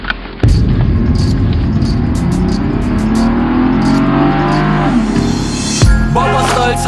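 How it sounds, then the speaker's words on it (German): A car engine roars as it accelerates hard, rising in pitch for several seconds before easing off, loud and close with no voices. "Ich steig ins Auto und drücke auf Gaspedal."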